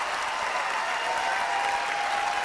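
A standing ovation fills a room with steady, dense clapping from a large crowd, loud and continuous throughout with no pauses.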